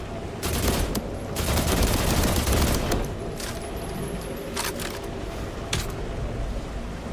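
Rapid automatic gunfire rips through a firefight in The Last Caretaker, a dense, loud volley for the first few seconds followed by scattered single shots echoing in a warehouse space.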